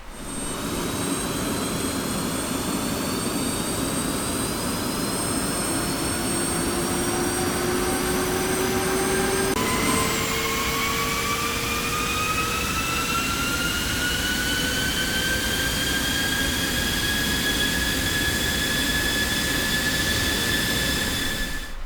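An F-16C jet engine spooling up during a start in the DCS flight simulator game, a steady loud turbine roar with whining tones that climb in pitch as the engine speeds up, continuous and without speech.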